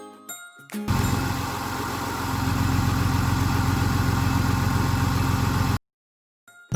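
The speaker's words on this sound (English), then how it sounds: "I'm going to try to start the E46" A BMW E46 engine cranks briefly, catches and settles into a steady, loud idle that holds for several seconds before cutting off abruptly.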